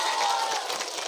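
An audience at an Islamic religious lecture in Curugkembar, Sukabumi claps together in a dense, continuous wash of applause, loud and steady for a brief moment with some crowd murmur mixed in.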